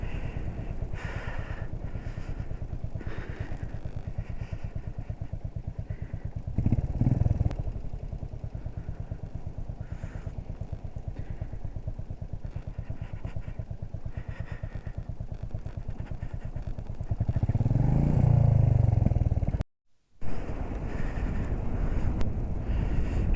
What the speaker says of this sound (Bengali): খালি আমি একা বাইক চালাচ্ছি।